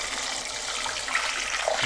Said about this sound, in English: As simple as pour the water